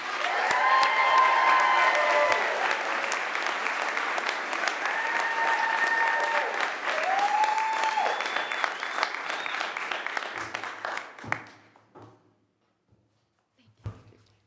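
An audience at a university diploma ceremony applauds steadily and warmly for about eleven seconds, with scattered cheers, then the clapping dies away to near silence.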